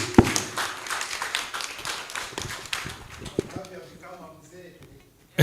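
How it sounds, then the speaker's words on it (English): Conference audience at Pwani University clapping in a brief scattered burst that thins out, with a speaker's voice running over it. "let's give them a hearty clap."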